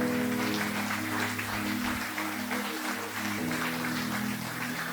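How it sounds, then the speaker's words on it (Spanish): A church congregation claps together while instrumental music holds sustained tones underneath, the clapping blending into the music at a fairly loud, steady level. "Dele un aplauso a ese Señor"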